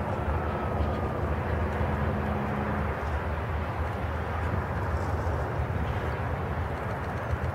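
Large radio-controlled Cessna 182 model airplane approaching to land with partial flaps, its engine giving a steady, moderately distant drone that holds constant throughout.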